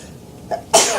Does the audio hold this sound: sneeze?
yes